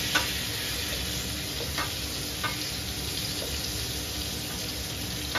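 Small potatoes sizzle steadily in a hot pan, a dense, even frying hiss broken by a few faint clicks as they are stirred.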